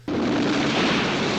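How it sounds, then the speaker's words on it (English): Explosions from the 1963 film From Russia with Love erupt in a loud, dense roar that bursts in abruptly and rumbles on without a break for over a second. "drive away from the explosions"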